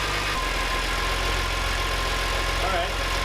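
A BMW E46 M3 engine idles steadily with a low, even rumble and a faint periodic pulse, loud and continuous throughout with no break.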